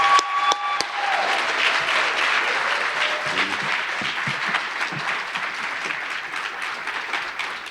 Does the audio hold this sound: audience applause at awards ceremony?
yes